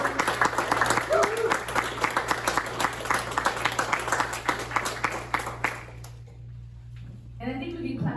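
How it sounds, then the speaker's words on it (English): An audience at a city council meeting claps steadily for several seconds, then the applause stops abruptly and a voice begins speaking over a low hum. "Let's give them a round of applause."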